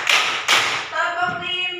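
A class of fifth-grade primary school pupils claps in unison, two broad sharp bursts of a group clap close together, followed by a teacher speaking.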